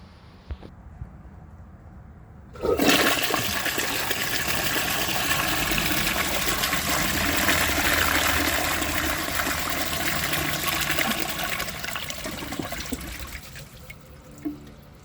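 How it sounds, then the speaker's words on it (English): Flush of a 1902 Fleck Bros. Victor antique toilet with a water-saving flapper: a sudden loud rush of water bursts in and holds a steady roaring gush for about twelve seconds before tapering, close to the microphone. "So let's give it a flush and see how it does on tests."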